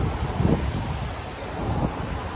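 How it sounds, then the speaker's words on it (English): Strong wind gusts across a hotel terrace in Sonoma, a steady broadband rush with louder swells near the start and middle, close to the microphone with no talking. "It's really windy outside."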